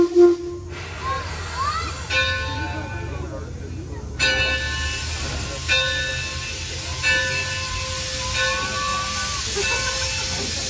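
A steam train on the Torch Lake ride pulls out of Susquehanna Station toward Firestone Station, with a steady loud steam hiss under bell-like ringing tones and sustained harmonic notes, plus fresh bursts every second or two.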